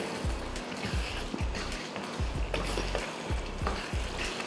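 Boiled cowpeas are stirred into simmering kara kuzhambu masala in a pot, the spoon scraping and splashing in a steady rhythm of roughly ten strokes over a few seconds, close and fairly loud.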